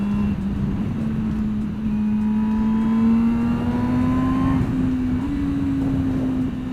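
An MV Agusta Brutale 1000 RR motorcycle with no exhaust, ridden on the Assen circuit, holds a loud, steady engine drone that slowly rises in pitch and then steps up briefly as it downshifts, all recorded from inside the rider's helmet.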